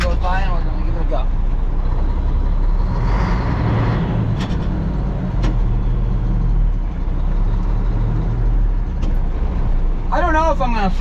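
A car driving past on a road beside a manure truck, a loud steady engine and tire rumble throughout, with someone talking over the start and end.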